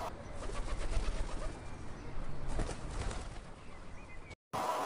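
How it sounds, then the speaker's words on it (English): Pigeon cooing over a steady noisy background, a soft low repeated call filling most of the stretch before a brief silent gap near the end. "This is a pigeon."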